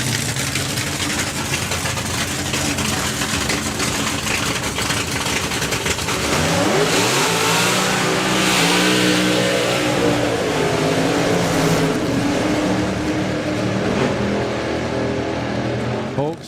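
Big Block and Hemi drag racing cars revving side by side at a nostalgia drag meet, a loud steady engine roar that climbs in pitch and surges midway, with a voice talking over it.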